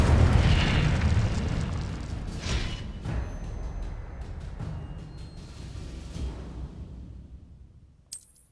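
In the Hogwarts Legacy video game, the Incendio fire spell goes off with a loud whooshing burst that fades into a decaying rumble, followed by a few scattered crackles and a short bright chime near the end.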